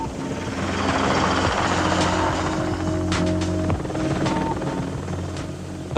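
An Apache attack helicopter flies at night, its loud, steady rotor drone and turbine whine filling the air with a continuous low throbbing hum and sustained tonal engine notes that stay strong throughout.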